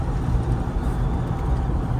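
Low, rumbling drone of a Hemi-swapped Dodge D150 pickup engine heard from inside the cab while driving, a steady loud bass thrum with a constant road roar and no pauses.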